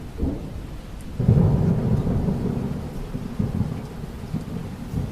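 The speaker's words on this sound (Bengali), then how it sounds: "বৃষ্টি শুরু হলো, এখন যে কি হবে?" Rain falls steadily in a cartoon storm while thunder rumbles low and heavy, swelling loudly after the first second and rolling on beneath the continuous downpour.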